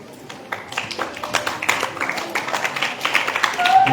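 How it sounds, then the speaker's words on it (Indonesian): An audience claps at an Islamic study gathering, a scattered, moderately loud patter of hands that builds and thickens over a few seconds. "Tepuk tangan dulu dong."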